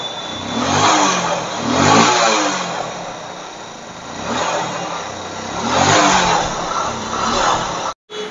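An old Hero Honda motorcycle engine runs close by and is revved repeatedly in swelling bursts about once a second, then cuts out briefly near the end.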